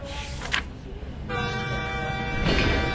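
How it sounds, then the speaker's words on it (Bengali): A train horn sounds in a radio drama set at a quiet railway station on a winter night, a sustained tonal blast joining a rumbling train that grows louder toward the end. "বেশ অনেকটা সময় পরে ট্রেনটা দুলে উঠে আবার চলতে শুরু করল।"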